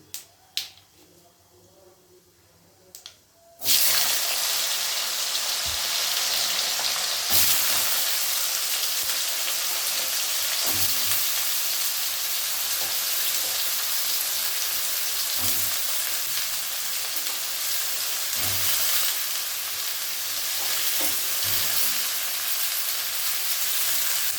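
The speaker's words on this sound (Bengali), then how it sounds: "এবার আমি প্রথমে দেবো হচ্ছে এরকম লম্বা লম্বা করে কেটে রাখা আলু।" Long-cut potatoes drop into hot oil and set off a loud, steady sizzle that runs on for about twenty seconds, with occasional scrapes and knocks of stirring and no talking.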